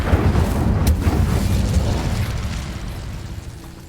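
The Incendio fire spell in the PS5 game Hogwarts Legacy bursts with a loud, deep rumbling whoosh and a sharp pop early on, then rolls off into a gradually fading low roar with no voices.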